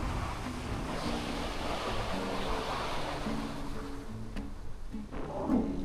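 Sea waves washing onto the shore, a steady rushing surf under gusts of wind noise, with a few brief bumps and rustles near the end.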